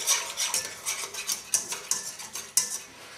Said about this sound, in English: and mix that all together